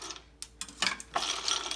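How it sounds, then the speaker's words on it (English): Ice cubes drop into clear plastic cups of room-temperature water, making a few close, bright clinks and splashes in quick succession, several landing within under two seconds. "So I'm going to add some ice cubes to each of these."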